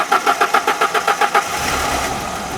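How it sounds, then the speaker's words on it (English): A Mazda B2300 pickup truck engine cranks in a rapid rhythmic series of starter pulses, then catches into a rough, loud running roar with popping backfire, close by and without talk. "Oh, she's already backfiring."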